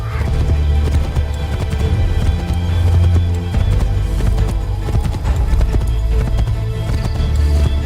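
Hooves pound in a steady, continuous gallop as a horse runs at full speed in Assassin's Creed III Remastered, loud and close throughout with dense game sound layered around them.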